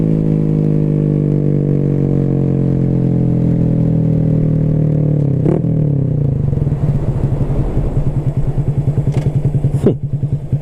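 A Honda Grom motorcycle engine runs loud and close, a steady droning hum that shifts into a rapid, rattly putter as it slows, with a couple of sharp clicks near the end.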